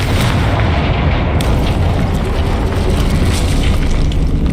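A Confringo blasting spell exploding in the Hogwarts Legacy game, a loud dense rumbling blast that roars without pause across the whole stretch, with no voices.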